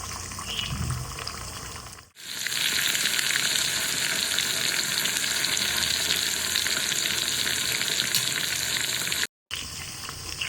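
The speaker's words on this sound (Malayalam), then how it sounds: "ഇനി നമുക്ക് നല്ല ചൂടായി കിടക്കുന്ന എണ്ണയിൽ നല്ല ഹൈ ഫ്ലെയിമിലിട്ട് തിരിച്ചും മറിച്ചിട്ട് നല്ലൊരു ഗോൾഡൻ കളറാവുന്നവരൊന്ന് ഫ്രൈ ചെയ്തെടുക്കാം" Food frying in very hot oil over a high flame until golden, a loud, steady broadband sizzle running continuously with no talk, broken by a short gap near the start and a brief dropout near the end.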